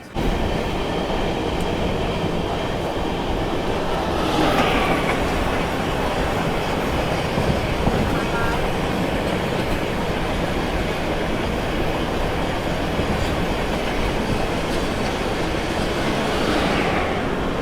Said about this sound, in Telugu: మన బండి అయితే అన్నవరం నుంచి డిపార్ట్ అవుతుందండి, మెయిన్ లైన్ ప్లాట్ఫామ్ నుంచి, ప్లాట్ఫామ్ నెంబర్ 3 మీద నుంచి